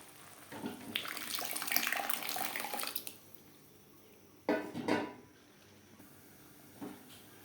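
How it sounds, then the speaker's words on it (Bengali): Water is poured into a pot of cooking moong dal, a splashing rush for about two seconds followed by a couple of shorter, softer pours and splashes at close range, with no talking. "আর দিয়ে দেব পরিমাণ মতো জল।"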